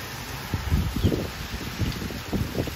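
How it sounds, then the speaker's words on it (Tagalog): Strong typhoon wind in Japan buffets the microphone in rough low bursts, with leaves or loose material rustling nearby and no speech. "malakas na yung hangin doon"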